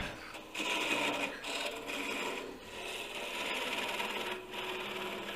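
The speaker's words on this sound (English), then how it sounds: "Give myself some waste wood. Part it off up here." A woodturning lathe parts off waste wood, with a steady rasping, scraping hiss of the tool cutting the spinning wood, close and moderately loud and unbroken for a few seconds, with no talking.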